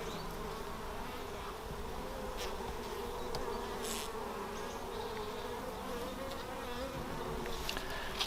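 Honey bees drone in a dense, continuous buzz during a hive inspection, close and steady, with a few sharper passes of individual bees flying near.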